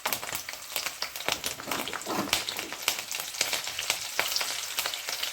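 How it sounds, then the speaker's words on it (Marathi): Five or six washed, dried green chillies slit down the middle crackle and sizzle in hot oil for corn pakoras, a dense continuous spattering with frequent sharp pops, close and fairly loud, with no voices. "या काही 5-6 मिरच्या तळून घेऊ"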